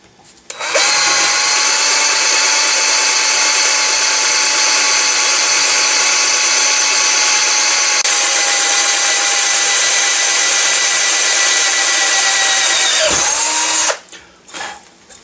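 Power drill boring a 17/64 hole while installing a drum on a gun, a loud, steady high whine held for about thirteen seconds, close up, then cutting off abruptly.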